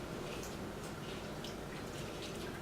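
Cream poured onto raw chicken tenders in a bowl for copycat Chick-fil-a nuggets, a soft steady liquid trickle with faint dripping that runs without a break, close and quiet.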